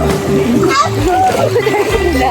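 People swimming in a river, with splashes and splatters of water mixed among children's voices and chatter close by, busy and continuous throughout.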